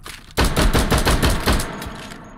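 Rapid bursts of automatic gunfire from guns in the VR shooter H3VR, loud and close, firing in a fast, steady rhythm for about two seconds before trailing off.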